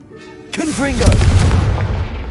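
A Confringo spell in Hogwarts Legacy goes off as a loud, sudden fiery blast with a rumbling, crackling tail, right after a brief lead-in with a voice briefly audible.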